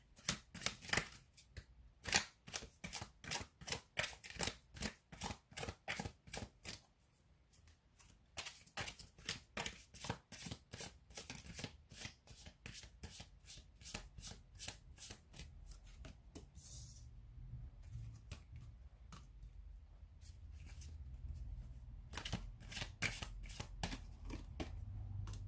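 Tarot cards are shuffled close up in quick rhythmic riffling bursts, with short pauses between rounds and a faint background murmur toward the end.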